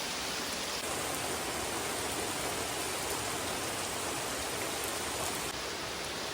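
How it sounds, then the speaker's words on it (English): Heavy rain pouring down outside during a trek, a steady, dense hiss of drops hitting surfaces that stays constant and even throughout. "it's raining outside heavily"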